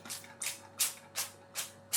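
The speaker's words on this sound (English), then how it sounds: "And then spray on some sunflower oil." Sunflower oil is sprayed over a roast dinner in a roasting tin: six short, hissing spray bursts at a steady rhythm, close and fairly quiet, over a low hum.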